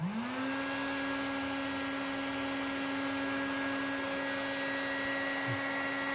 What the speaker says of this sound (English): Let's go ahead and start the heat gun.